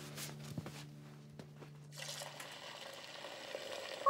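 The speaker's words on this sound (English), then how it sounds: "I'll fill up your water bowl" Water from a tap splashes and trickles into a dog's bowl, quiet and close, with a few clinks before a steadier filling sound.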